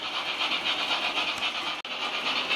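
Digital model locomotives run on analogue control, giving a steady, close mechanical whir and hiss that carries on for the whole stretch with a single brief break.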